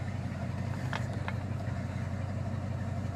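A 1963 Ford Fairlane 500 engine idles steadily on a hot day, a low continuous hum that stays constant throughout, with a couple of faint brief clicks in the background.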